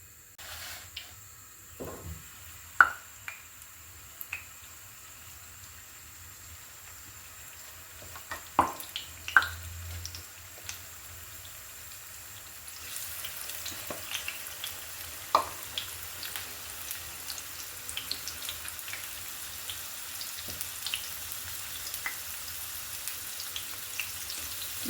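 Pieces of spice-coated fish frying one by one in hot oil for a thin fenugreek fish curry, with soft crackles and sharp pops that grow into a steadier sizzle partway through, no talking.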